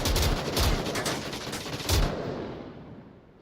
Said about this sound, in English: Hunter versus Will with the 2 box mag LMGs.